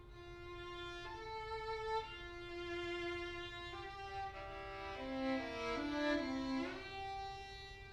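A solo violin plays two intertwined melodic lines, a higher treble voice over a lower bass line, sustained and close with no talking.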